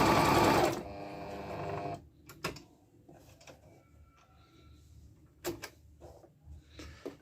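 A Singer Monica 5200 sewing machine runs at full speed in a loud, dense whir for about two seconds, then stops. Quieter mechanical clicks and knocks follow as the machine is handled.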